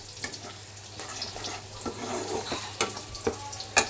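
Onion, ginger and garlic paste with three or four green chillies frying and being stirred in a pan, a steady low sizzle broken by scattered scraping clicks of a spoon, close and fairly quiet.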